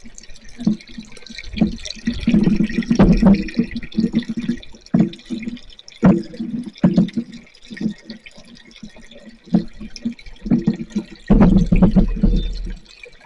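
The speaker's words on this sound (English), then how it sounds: "And the water just falls into it." Water spilling from a homemade pitcher pump fountain into a wide, deep tray, a steady close splashing and dripping with irregular louder gushes throughout.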